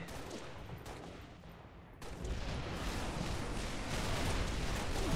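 Dense gunfire and explosions in Halo: Master Chief Collection multiplayer, a continuous roar of shots that grows louder after a brief dip.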